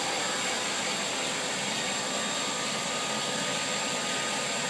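A 1991 Haas VF-1 vertical machining center spindle runs in low gear at 1000 RPM, a steady, even whirring hum with broad airy hiss, constant throughout and fairly quiet.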